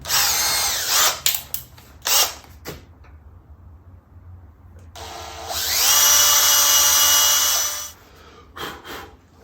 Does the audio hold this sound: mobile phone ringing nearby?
no